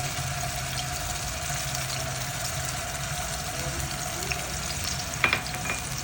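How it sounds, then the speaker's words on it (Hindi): Garlic-ginger paste and chopped green chillies fry in a pan with a steady, moderate sizzle, a few faint stirring clicks near the end. "अब अच्छे से इसे फ्राई करना है कि लहसुन अदरक का कच्चापन अच्छे से दूर हो जाए और हमारी हरी मिर्ची भी अच्छे से फ्राई हो जाए।"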